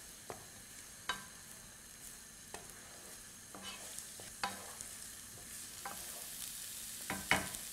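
Onion and garlic softening in a pan for a pork and beef ragu sauce, with a gentle continuous sizzle and occasional spoon clicks and scrapes, no talking.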